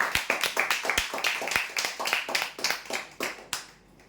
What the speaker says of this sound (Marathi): जोरदार टाळ्या होऊ द्या यासाठी